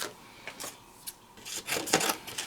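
A paper trimmer blade slides and rasps through cardstock in a few short, soft scraping strokes, quiet and close, with small clicks between passes and no talking.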